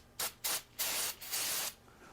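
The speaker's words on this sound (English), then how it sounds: "hold this away from my face as I spray my paper towel" Disinfectant sprayed from a pump bottle onto a paper towel in four close, loud hissing bursts, the last one longer, then quiet.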